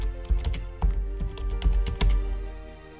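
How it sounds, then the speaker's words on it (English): Typing on a computer keyboard, close and fairly quiet: a quick, irregular run of key clicks and clacks with short pauses, heard on its own without talk. "we're gonna type in what we want it to be"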